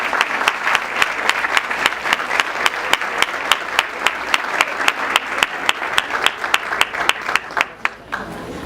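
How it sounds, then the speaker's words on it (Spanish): A conference audience in Buenos Aires gives warm applause, a sustained, even roar of many hands with crisp individual claps punctuating it, holding steady for over eight seconds before easing off. "No resta más que recibirla con un cálido aplauso a Ana María Borsone."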